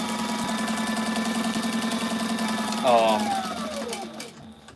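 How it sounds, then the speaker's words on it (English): Sewing machine stitching black thread on black fabric, a steady close motor hum with rapid needle rhythm that winds down near the end, with a voice talking over it. "Then I'm sewing black thread on black."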